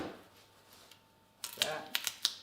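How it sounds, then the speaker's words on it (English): A few sharp snipping and crinkling sounds near the end as scissors cut duct tape on a motorcycle rim, quick irregular cuts close by, after a quieter stretch. "Taking just scissors and cut it off."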